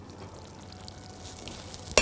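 Mongolian beef frying in a pan, a soft steady sizzle running quietly throughout, with a brief sharp clink or scrape right at the end.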